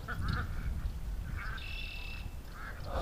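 A female duck quacks a few times near a creek while she drinks, short nasal calls spread across the moment over steady outdoor background noise, with no talking.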